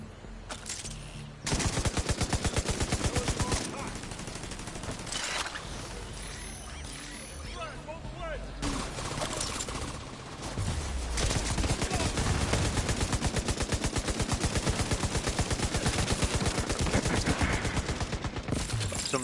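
Heavy gunfire and explosive launcher bursts in the video game The Division, loud and sustained for most of the stretch with dense rapid rattling and thuds, after a brief quieter opening.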